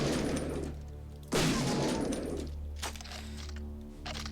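A flamethrower fires in the video game Shadowgrounds, a loud roaring whoosh bursting in, then a second blast fading into crackling game effects over a steady low hum.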